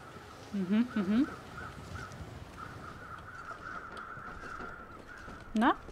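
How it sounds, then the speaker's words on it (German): Crows in the survival video game The Long Dark give several harsh caws, a pair of doubled calls early on and another at the end, over a constant windy background hum. "Na, wo seid ihr denn, ihr Krähen?"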